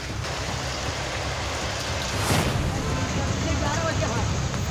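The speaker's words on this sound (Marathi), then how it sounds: "नालासोपाऱ्यात मुसळधार पाऊस सुरू आहे" Heavy monsoon rain pours steadily over Nalasopara in the Mumbai area, a dense continuous hiss with a brief louder surge midway and no talk.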